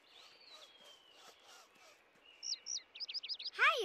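Bright bird chirps and tweets come in quick repeated bursts, growing louder toward the end, over otherwise quiet surroundings.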